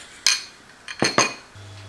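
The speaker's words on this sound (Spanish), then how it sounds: "Y para que se mezcle bien, lo bato un poco más." Whisk beating a mixture seasoned with garlic powder in a bowl, a few quick metallic clinks and scrapes in short bursts, close and fairly loud, with no voices.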